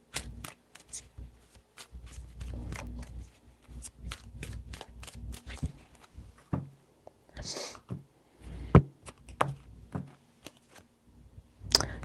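Tarot cards are shuffled by hand in three bursts of quick riffling and flicking, close and crisp, separated by soft taps and short quiet gaps, with no voice over them.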